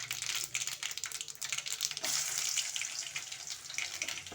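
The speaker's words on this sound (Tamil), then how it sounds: "நல்லா பொரியட்டும் கடுகு." Mustard seeds and chopped garlic frying in hot oil for an onion thokku side dish, a dense, continuous crackling sizzle heard close up and steady throughout, with no voices over it.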